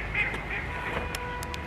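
A few duck quacks come through outdoors, fairly faint over a steady background hiss.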